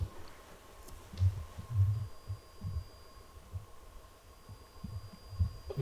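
A low electrical buzzing hum with faint white-noise hiss inside an abandoned prison, quiet and steady with soft throbbing low thumps pulsing irregularly throughout.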